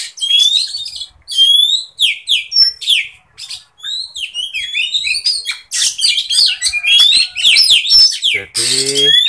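Kacer magpie-robins sunbathing in their cages call and sing continuously, loud and close, in dense overlapping whistles, chirps and harsh chatters with scarcely any pause.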